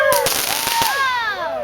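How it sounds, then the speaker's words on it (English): Fireworks bursting close by, several sharp cracks and pops early on followed by long whistling, descending and rising tones that overlap and trail off, with voices faintly in the background. "These are our fireworks, people."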